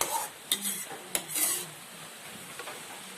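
Taro fries in oil in a pan while being stirred, a steady close hiss of sizzling broken by sharp scrapes and clinks of the spoon against the pan.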